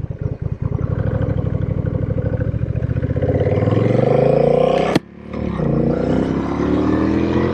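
A Honda Rebel 1100 with a six-speed dual clutch transmission accelerates on the highway, its engine note rising steadily and loud, then a quick automatic upshift drops the pitch before it climbs again.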